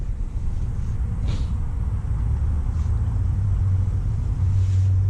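A Detroit 12.7 diesel truck engine idles steadily nearby, a loud, deep continuous rumble with a slight rise in tone near the end and no voices.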